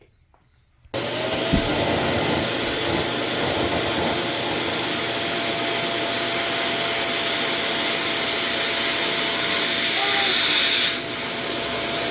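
An electric air pump switches on abruptly and runs with a steady loud whooshing drone while inflating an inflatable piece of a Little Tikes ball pit play center, continuing unbroken to the end.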